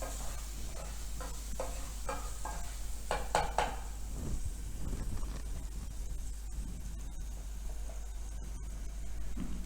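Pea soup ingredients sautéed in ghee in a pan for Marathi matar soup: a steady low sizzle beneath intermittent scraping and clinking of a spoon stirring against the pot, with a constant low hum throughout.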